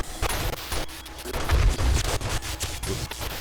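Rapid machine gun fire in a video game, loud and dense, with overlapping bursts of shots and deep booming thumps that continue throughout with no talking.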